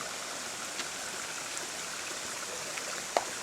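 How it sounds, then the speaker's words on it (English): A small stream of water flows steadily near a waterfall, a continuous close hiss and babble with faint drips and no voices. "Little water flow."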